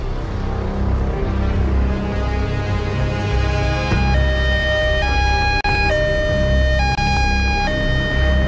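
A police car siren wails close by and loud, starting as a steady tone and then switching to a two-tone alternating pattern, with no talk over it.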